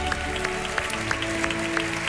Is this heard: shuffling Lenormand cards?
no